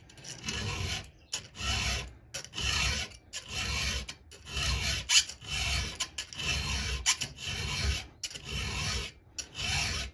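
A new metal file rasps against 1364 steel in repeated back-and-forth strokes, about a dozen swipes with brief pauses, close and loud.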